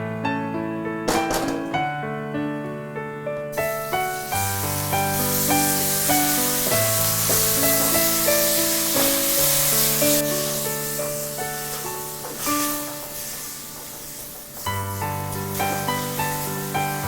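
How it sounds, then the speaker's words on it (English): Beef chow mein stir-fries in a carbon steel wok, a bright continuous sizzle and hiss swelling in the middle and easing off, heard beneath steady background music with no talking. "I use this carbon steel wok. It's good for stir fry."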